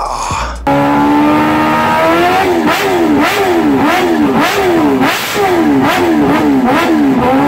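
A supercharged motorcycle engine revs hard again and again, each rising roar dropping back before climbing once more, loud and close.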